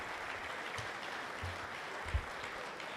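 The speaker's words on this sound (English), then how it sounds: "How about another round of applause for the Shira Choir, ladies and gentlemen?" An audience applauds the Shira Choir at an NYPD High Holy Days security briefing; a faint, steady wash of clapping sounds distant and muted throughout.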